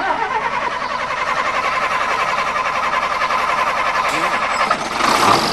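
A car engine starts and runs steadily with a continuous mid-pitched mechanical drone, close and fairly loud, with a brief rise near the end.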